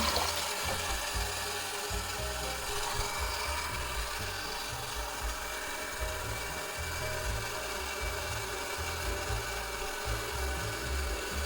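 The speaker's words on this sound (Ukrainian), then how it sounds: "Зараз спустимо першу текущу воду" A toilet cistern, just repaired for a leak, flushes with a steady, loud rush of water that runs unbroken for the whole stretch, with no voices.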